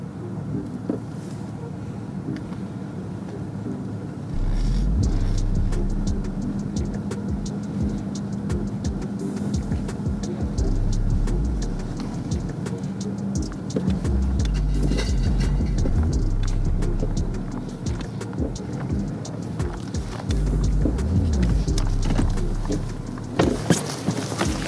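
A BMW drives uphill on a mountain road with the anti-slip system switched off. Its engine rumbles steadily and loudly throughout, swelling as it pulls, with no voices.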